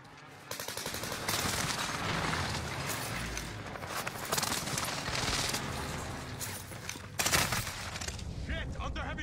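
Heavy, sustained gunfire fills a video game battle, dense overlapping volleys and cracks rolling on without pause, loud and close, with a voice talking underneath.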